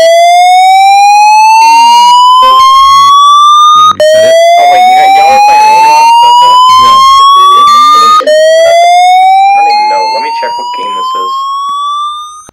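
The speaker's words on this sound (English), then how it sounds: "do you want to do the favor and pull the alarm?" A fire alarm siren in the Roblox video game, a loud electronic tone repeatedly sweeping upward in long rising cycles, with brief resets between sweeps and a slight fade toward the end.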